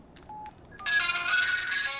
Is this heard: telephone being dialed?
yes